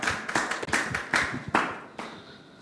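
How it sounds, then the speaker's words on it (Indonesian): Scattered, uneven hand claps from a small audience at a political discussion about Jambi city leadership candidates, coming in separate sharp bursts that thin out and fade toward the end. "beri tepuk tangan kepada uh, Bapak"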